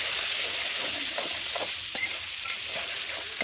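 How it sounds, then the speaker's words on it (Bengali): Pointed gourd and potatoes sauté in a pan, a continuous close sizzle of hot oil with a few soft scrapes of the spatula stirring, no voices. "এখন পটল ও আলু আমি সুন্দর করে কষিয়ে নেব।"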